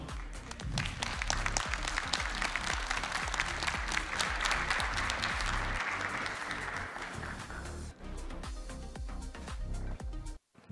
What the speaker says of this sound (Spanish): Le damos la bienvenida a Octavio con un fuerte aplauso